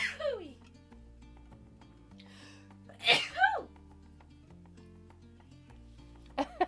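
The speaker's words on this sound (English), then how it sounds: "Ooh, I gotta sneeze." A single close, loud sneeze with a sharp intake before it, over quiet background music, with a brief vocal sound trailing after.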